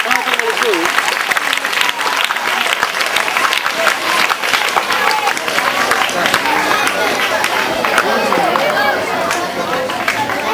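Loud, sustained clapping from a crowd fills a government high school function in Ulavapadu, welcoming the MPP, with steady dense applause and some background chatter throughout.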